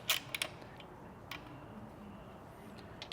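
Torx T40 bit snugging a rain gutter bolt on an M1 camper, heard as a few quiet ratcheting clicks and creaks near the start, then faint low background noise.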